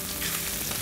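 Calabresa sausage frying in a cast iron pot gives off a steady, close sizzle and crackle, continuous and fairly soft with no talking over it.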